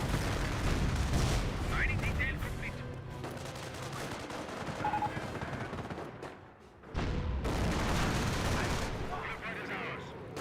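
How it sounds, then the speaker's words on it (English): Rocket barrage and artillery fire in the Company of Heroes 1 strategy game, a dense, loud roll of blasts and shell impacts lasting throughout, briefly dipping before another heavy wave, with a voice talking over it. "Nebel Warfare Barrage running in somewhere nearby. We've got fire incoming."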